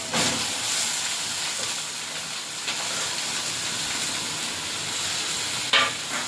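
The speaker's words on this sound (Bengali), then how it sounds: "এই কষানো হয়ে গেছে, এবারে শাকটা দিয়ে দেবো।" Leafy greens hit a hot frying pan after the spices are fried, a loud, steady sizzling hiss that holds throughout, with a brief sharper burst near the end.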